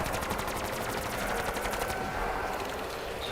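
Sustained rapid automatic gunfire from a Modern Warfare 3 match, a dense rattling stream of shots lasting a few seconds without a break, loud and close with no talking over it.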